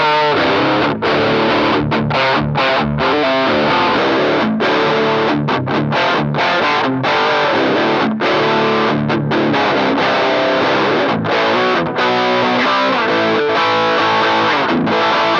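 An electric guitar played through the lead channel of a 1989 Peavey Bandit 112 amp, miked up, gives a loud, heavily distorted tone with continuous riffing and brief choppy gaps between phrases.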